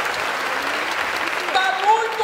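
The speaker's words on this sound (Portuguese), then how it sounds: "Aplauda a Deus se aqui está bom." Steady applause from a congregation gathered for prayer, a continuous wash of clapping at moderate level, with a voice beginning to speak over it near the end.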